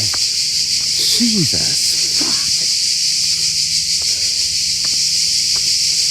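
Crickets at an abandoned prison, shrilling in a loud, constant high-pitched drone. Someone talks briefly over the din.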